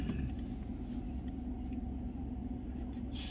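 A car rolls into a busy main bazaar at Narayan market with a steady, close, low engine and road rumble throughout, and no clear talk over it.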